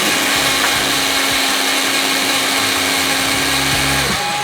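Electric blender running continuously to mix a fish marinade with a little added salt, a loud steady motor whine with a grinding buzz, close and unbroken, slowing slightly at the very end.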